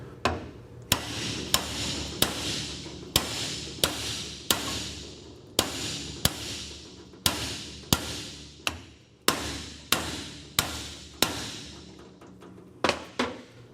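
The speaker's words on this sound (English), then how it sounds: "We're going to start with the brass hammer just so we don't beat stuff up too bad." A brass hammer strikes the double cardan joint of a 1996 Toyota 4Runner in a steady series of about fifteen sharp, ringing metallic blows, evenly spaced, close and loud with no talking.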